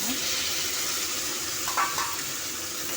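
Tomatoes frying in a pan for a simple wedding-style chutney, giving a steady close sizzle with a faint clink of utensil or stirring near the end; no talking.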